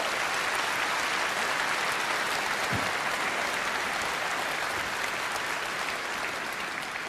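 Sustained applause from a Reform UK party conference audience in Britain, a dense, steady wash of clapping filling the hall for about seven seconds at even loudness.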